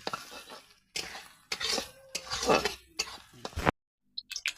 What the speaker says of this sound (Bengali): এখন বিরিয়ানির জন্য বেরেস্তা ভেজে নিচ্ছি।